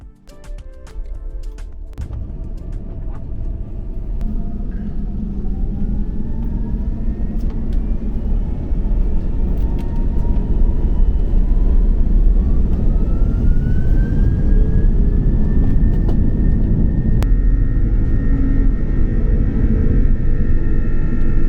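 Heard from inside the cabin, a Malaysia Airlines business class jet taxis out from Kuala Lumpur with a steady low engine rumble and faint rising whine that builds slowly, plus scattered small clicks and thumps.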